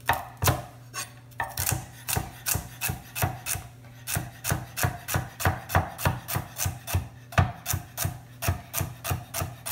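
Celery is chopped with a knife on a board in quick, even strokes, a steady run of crisp, close thuds.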